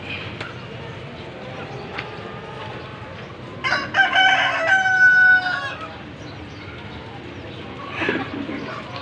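Chickens at a provincial market stall, with a rooster giving one clear crow mid-clip among faint clucks, over steady market chatter and background noise.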